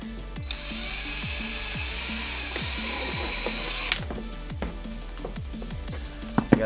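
Power drill boring holes into the body of a Subaru Outback, a steady close whine with repeated pulsing bursts and a few clunks at the end.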